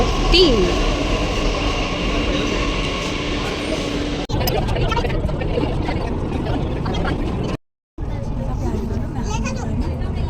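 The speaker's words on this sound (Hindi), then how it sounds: "हमारी मेट्रो आ गई है, अब चल रहे हैं मेट्रो में।" A metro train rumbles along with a steady mechanical roar and hiss, heard from inside the carriage, a brief squeal early on and a short dropout near the end.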